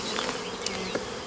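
Honeybees swarm and buzz around an opened hive while frames are being pulled out, a dense, steady droning hum close by with a couple of brief louder passes.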